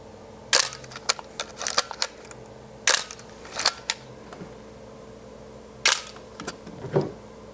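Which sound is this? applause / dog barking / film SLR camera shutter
film SLR camera shutter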